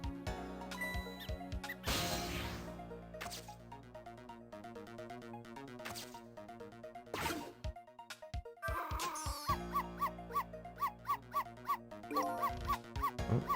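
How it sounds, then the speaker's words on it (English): A dog barks in the video game Ghost Trick: Phantom Detective, heard as a series of short yips over looping game music and electronic blips, growing into a quick run of rhythmic barks toward the end. "Missile, if you bark like that, you'll make the lady next door start howling"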